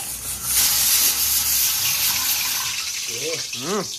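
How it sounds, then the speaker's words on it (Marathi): Water from cooking rice sputters and splashes over in a kitchen, a steady, close hiss and bubbling, and a voice speaks briefly near the end. "हा भाताचं पाणी उडतंय."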